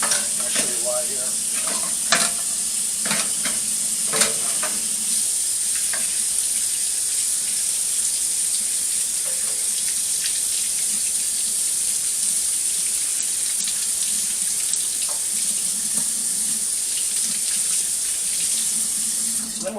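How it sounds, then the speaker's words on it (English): Hot tap water runs steadily into a sink while circuit boards from a Williams Defender pinball interface board are rinsed, a continuous close hiss and splash with a few brief clatters near the start. "Then we'll rinse, usually in hot water. Let that run for a minute."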